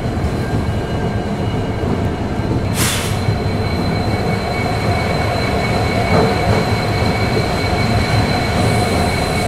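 An intercity Vistadome train runs on rails toward Naharlagun station with a loud, steady rolling roar and faint metallic wheel squeal throughout. A short burst of hiss cuts through early on, and nobody speaks.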